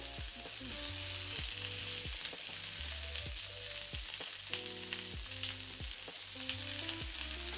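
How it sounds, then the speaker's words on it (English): Pork chops sear in a medium-high preheated skillet with a steady, dense sizzle and spitting crackle that runs unbroken throughout, close and loud with no voices. "Once you have placed your pork chops in your medium to high preheated skillet, you are going to leave them alone for 4 minutes."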